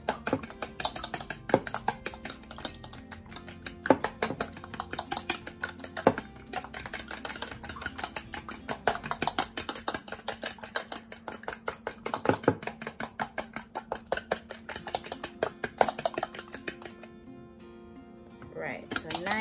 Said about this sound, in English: We'll give it a whisk.